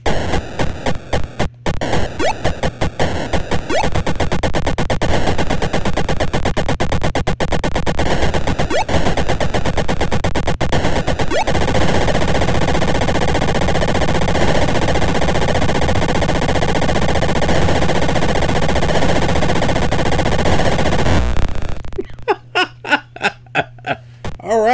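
Rapid electronic shooting fire from the Atari 2600 game Space Invaders, a dense, loud, continuous barrage of blips that ends abruptly near the end, followed by a few sparse, chirpy electronic tones.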